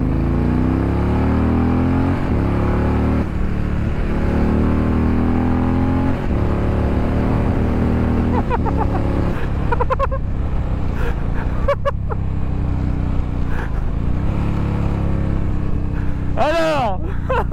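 An Indian Challenger motorcycle engine runs steadily throughout, rising and falling in revs with a loud, close rumble, while someone talks over it.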